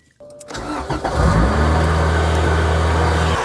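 An Acura Integra project car engine cranks and catches, then settles into a steady loud idle with a faint whining, grinding bearing noise running underneath.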